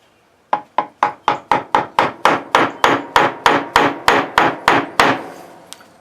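A hammer strikes a little chisel into wood about twenty times in a steady, quickening rhythm, each sharp metallic tap close and loud with a short ring, and no voices.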